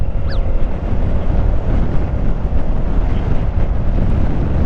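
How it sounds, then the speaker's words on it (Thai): Cold wind buffeting the microphone on a night ride in Chonburi, a loud, constant low roar of rushing air with a brief high whistle near the start and no talking. "โอ้วันนี้ลมหนาวมากฮะ"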